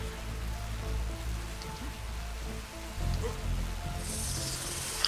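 Steady rain falls in the video game ARK Genesis, a soft continuous patter with low rumble beneath, fairly quiet and unbroken throughout.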